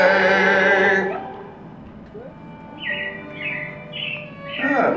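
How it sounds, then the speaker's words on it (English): Animatronic robins chirp in a few short, bright bursts on a stage at the Carousel of Progress show, following the tail end of music and heard fairly close at moderate volume. "it looks like the Robins are getting ready to celebrate Valentine's Day today"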